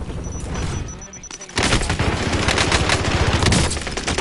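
Gunfire in Call of Duty: Warzone on Fortune's Keep, a steady crackle of shots that swells into a loud continuous automatic burst midway and keeps going to the end.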